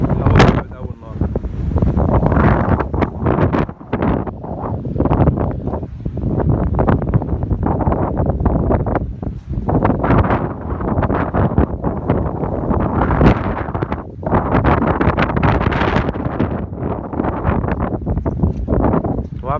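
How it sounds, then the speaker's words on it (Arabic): Strong storm wind buffets and roars continuously for about twenty seconds, loud and close with heavy microphone rumble; a voice is heard over it in places. "الهوا جامد أوي النهاردة."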